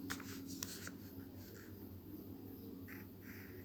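A pencil scratches faintly in a copy book in a few brief strokes over low background hum, with no talking.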